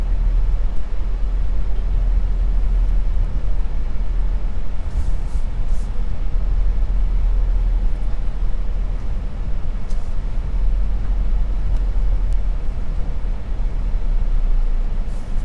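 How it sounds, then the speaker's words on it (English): Road traffic near Montego Bay's Sir Donald Sangster International Airport, a steady low rumble of passing vehicles with constant broadband noise and a few faint higher hisses, no talking. "As you can see, a little bit of traffic in the area."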